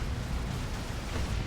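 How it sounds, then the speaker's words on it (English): Heavy plasma cannon fire in the Dawn of War 2 real-time strategy game during a 3v3 match, a dense, loud, rumbling explosive roar with heavy low-end boom sustained throughout, no speech. "Plasma Cannon taking out a friendly Assault Marine."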